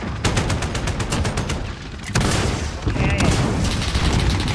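Rapid automatic gunfire in the Modern Warfare video game, with a P90 submachine gun among the weapons, crackling in dense bursts almost continuously, with a heavy burst near the middle and a player's voice talking over parts of it.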